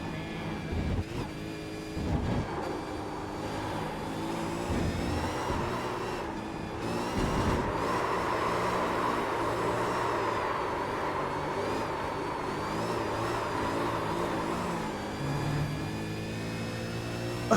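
A race car in the iRacing sim drives hard, its engine whining at high revs with pitch rising and falling as it slows for braking zones and accelerates again, steady and close throughout.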